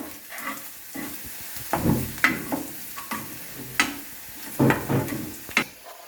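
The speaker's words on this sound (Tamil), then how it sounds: "இப்போ நல்லா வதக்கிக்கலாம்" Momo filling sautéed with coriander powder in a pan, a steady sizzle broken by repeated scraping stirs of a spoon against the pan, close and moderately loud with no talking.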